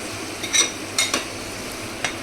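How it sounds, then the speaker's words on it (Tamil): Masala for a chicken gravy being sautéed in a pan, a soft continuous sizzle with a few light spoon scrapes and clinks against the metal. "எல்லாமே நல்லா போட்டு நல்லா வதக்கிக்கோங்க"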